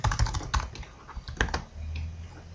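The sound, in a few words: typing on a Belgian computer keyboard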